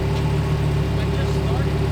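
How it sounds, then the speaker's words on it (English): A Lamborghini Huracan engine runs steadily up close with a deep, even rumble and no sharp rise in pitch, while people talk over it. "Rev the Huracan"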